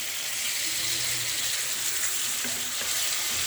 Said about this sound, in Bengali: সুন্দর মতন কষাইয়ে নিই, তারপরে মাছটা দিয়ে দেব